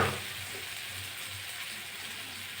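Spices and vegetables for tilapia curry being sautéed in a pan, a soft, steady sizzle and hiss throughout, faint and close with no talking.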